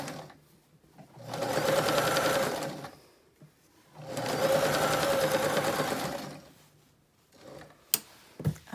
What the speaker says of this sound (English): You just kind of sew a few inches and flatten it out as you go